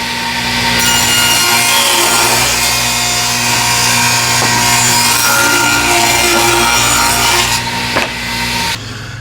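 A saw cuts a dado groove about half the board's depth into a piece of wood, a loud, sustained grinding whine running several seconds with slight shifts in pitch, then ending with a short knock.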